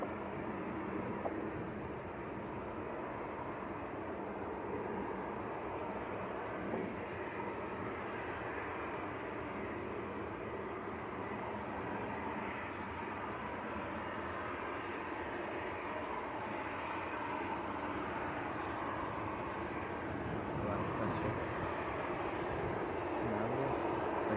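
A Ryanair jet at Leeds Bradford Airport gives off a steady broad roar of aircraft engines from a distance, unchanging and continuous for over twenty seconds with no voices.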